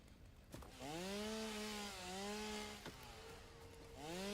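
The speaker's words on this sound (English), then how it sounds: "Chainsaw time." Chainsaw revving in the video game Satisfactory, a loud sustained buzzing motor that rises and dips in pitch over several seconds with brief gaps, close and alone with no talk.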